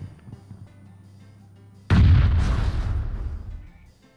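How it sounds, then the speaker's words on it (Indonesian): A heavy bombing explosion goes off in an online shooter game, a sudden loud blast after quiet background noise, followed by a long rumbling decay of debris and echo. "Wah, kita dibom habis-habisan tuh."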